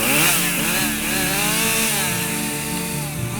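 Chainsaws worked by a small forest management and tree service crew thinning and clearing dead trees give a loud, steady engine drone, close and continuous with slight shifts in pitch, and no voices.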